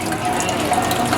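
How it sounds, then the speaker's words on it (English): Sparge water pouring steadily over a grain bed during all-grain homebrewing, a continuous close splashing gush with no pauses. "I add my sparge water over my grain bed"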